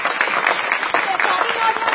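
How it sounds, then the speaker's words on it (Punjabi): An audience claps for a speaker addressing a Punjabi crowd, a brief burst of fairly close clapping mixed with crowd voices. "ਤਾੜੀ ਤਾੜੀਆਂ ਵੀ ਆ"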